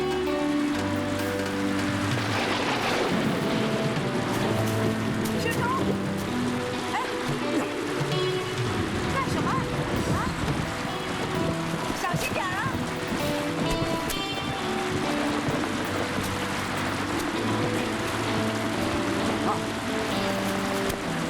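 Heavy rain and wind lashing down steadily, a dense continuous roar of rain on surfaces close by, with people talking over it at times.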